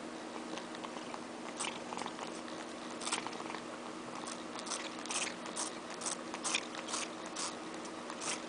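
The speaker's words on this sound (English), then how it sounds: "What kind of feline likes salt and vinegar chips?" A cat munches salt and vinegar potato chips, making quiet, irregular crunching and biting bursts over a low steady background hum.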